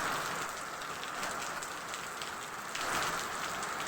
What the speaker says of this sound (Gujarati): 2 દિવસથી સતત વરસાદ ચાલુ છે.